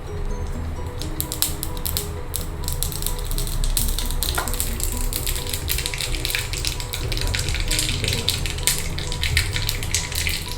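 Mustard seeds pop and crackle in hot oil while tempering coconut chutney, a dense run of sharp little snaps over a steady sizzle, close and continuous.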